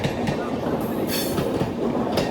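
A train pulling away from a station platform at Edappally, Kochi, with a steady rail rumble and wheel clatter, rising bright squealing bursts and nearby voices.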